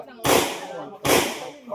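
Two sharp gunshots from a firearm at a shooting range, each a loud abrupt crack followed by a decaying echo, spaced under a second apart.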